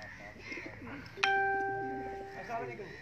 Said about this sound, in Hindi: कबूतर तो यहाँ पे